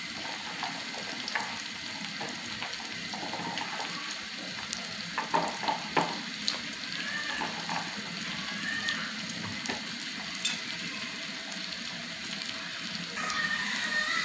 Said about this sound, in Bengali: আগে এগুলো হালকা পরিমাণ ব্রাউন কালার করে ভেজে নেব